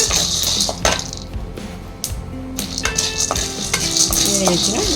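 Sesame seeds dry-roasting in a pan, with a spoon stirring and scraping, light clinks of metal and a quiet hiss underneath, close and fairly loud, with no voices.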